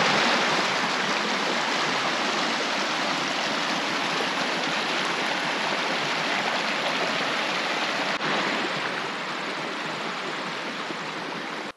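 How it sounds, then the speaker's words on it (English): Creek in the Victorian High Country rushing steadily, a dense, continuous broadband wash of flowing water close by, with no voices, throughout. "Let's have a look at the creek."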